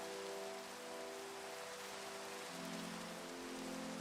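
Steady rain in the Minecraft video game, a continuous even wash of drops pattering on surfaces, moderately quiet and unbroken, heard alone without voices.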